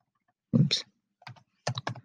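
Short bursts of keystrokes on a computer keyboard, a few quick clustered clicks separated by pauses, close and clear in a quiet room.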